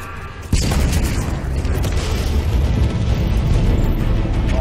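An explosion in the video game Halo Infinite, a sudden loud boom followed by a sustained, heavy rumble of continuing blasts.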